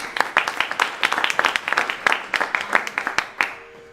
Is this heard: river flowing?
no